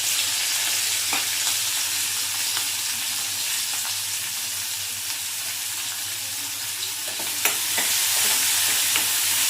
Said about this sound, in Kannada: ಈರುಳ್ಳಿ ಮತ್ತು ಹಸಿಮೆಣಸಿನಕಾಯಿ ಇದು ಸ್ವಲ್ಪ ಚೆನ್ನಾಗಿ ಫ್ರೈ ಆಗಬೇಕು.